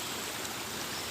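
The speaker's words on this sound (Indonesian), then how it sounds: "Ini sungainya." A river flows steadily nearby, giving a dense, even rush of water with no breaks and no voices.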